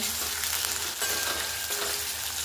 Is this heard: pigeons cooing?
no